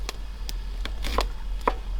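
A whole big onion for Thai curry is being sliced with a super sharp hunting knife: several crisp, separate cuts at uneven intervals over a steady low hum, with no talking.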